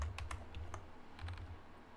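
Someone types on a computer keyboard while writing a GitLab merge request, producing quick, irregular bursts of close, crisp key clicks over a low steady hum.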